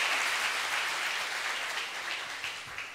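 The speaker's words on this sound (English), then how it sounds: "That deserves applause" A seated audience at a literary conversation with author Amish breaks into steady applause, a dense, even clatter of many hands that fades slightly toward the end, with no voices on top.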